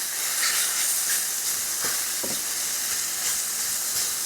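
Flour-coated vegetables stirred in a hot pan, a constant loud sizzle and hiss with a few soft scraping strokes of the spoon in the middle.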